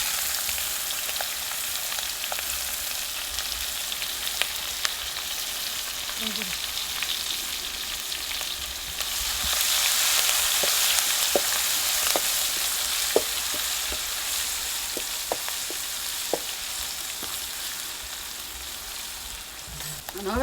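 Curry leaves and green chilli pieces sizzle hard in hot oil with a pinch of asafoetida, a loud, continuous hiss that swells midway, dotted with occasional pops and clinks of stirring.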